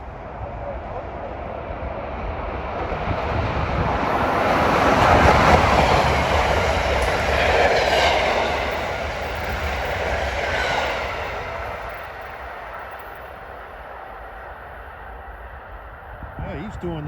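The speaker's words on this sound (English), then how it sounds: "336 approaching headed to New York is train 3954 from Trenton to New York" A New Jersey Transit express train, number 3954 from Trenton to New York, roars past on the corridor at Rahway at roughly 90 mph. A broad rumble swells in, peaks loudly in the middle, then eases into a lower fading wash.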